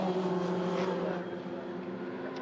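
TCR touring race cars circulating at Oulton Park circuit, an engine note droning steadily then easing slightly as a car passes at moderate distance, with no talk.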